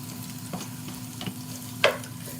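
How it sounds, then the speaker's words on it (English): Green onions fry in hot oil with a soft, steady sizzle, broken by a few light stirring knocks and one sharper scrape, with no one talking. "So we have some delicious green onions. We're gonna fry that bad boy."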